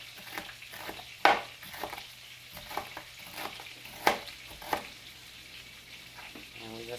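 Ground beef frying in a pan for Salisbury steak, with a soft steady sizzle broken by several sharp scrapes and clinks of a utensil stirring against the pan.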